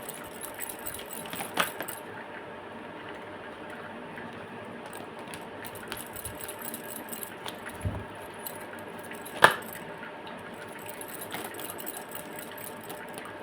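A deck of tarot cards shuffled continuously at close range, a soft papery rustle broken by a few sharper snaps and taps, with no talking.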